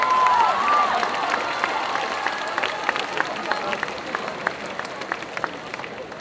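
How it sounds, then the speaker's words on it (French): An audience at a solo cosplay contest in France applauds a cosplayer, a dense wash of clapping with scattered sharper claps and some cheering, steady and moderately near throughout. "On peut l'applaudir bien fort, s'il vous plaît."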